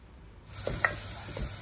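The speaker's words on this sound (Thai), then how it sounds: "ตอนนี้ก็ผัดนะคะหัวหอมนะหัวหอมสับผัดให้หอมนะคะ" Chopped onion stir-fried in a pan for a beef pasta sauce, a sizzle that starts abruptly after a quiet moment and carries on steadily, with a couple of soft stirring knocks.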